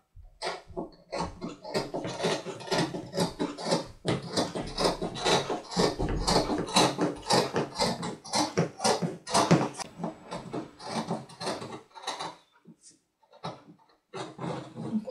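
Scissors cutting fabric for the back panel of a pair of trousers along a paper pattern, a steady run of close snipping and rustling that continues through most of the clip and then thins out near the end.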